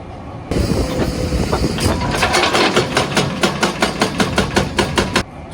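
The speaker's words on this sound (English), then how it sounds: "That's a 1 ton rock breaker that came in this afternoon." A 1 ton hydraulic rock breaker on a digger hammers at hard rock. A noisy mechanical roar turns into a fast run of regular pounding blows that stops abruptly, heard at a moderate distance.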